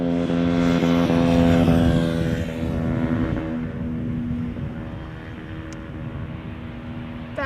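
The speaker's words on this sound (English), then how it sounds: "That moped did not sound well tuned. Did you guys hear the stutter?" A poorly tuned moped engine stutters past near a plane-spotting spot at Amsterdam Schiphol Airport, a loud, uneven harmonic drone that swells early then fades gradually into the background hum.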